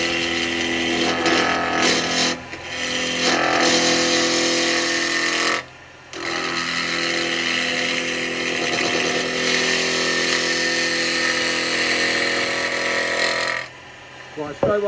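An alder log blank for a live-edge pot spins fast on a wood lathe, a steady close motor whine running almost continuously with two brief dips, while someone talks over it.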